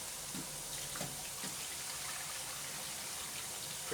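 Water pours and splashes steadily while an Indesit washing machine is being overfilled, a continuous rushing gush close by with no voices.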